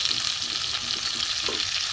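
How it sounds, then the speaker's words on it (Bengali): Potatoes and eggplant fry with onions in hot oil, giving a continuous close, bright sizzle with faint spatter pops and no talking. "পেঁয়াজটা মোটামুটি ভাজা হয়ে গেছে, আলুগুলো দিয়ে দেবো।"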